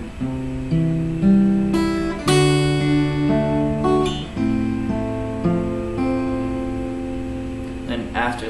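Fingerpicked guitar works through a passage, a series of plucked notes and chords ringing clearly up close, each new pluck landing every second or so with sustained overlapping tones, played alone without talk.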